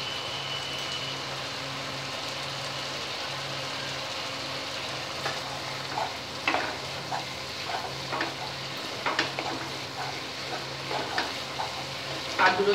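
Masala with garam masala sizzling in a pan on high flame for bhetki fish curry, a constant frying hiss broken by scraping stirs and clatter, close and fairly quiet.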